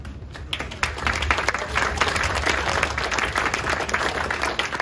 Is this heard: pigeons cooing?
no